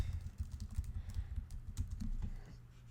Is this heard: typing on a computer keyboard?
yes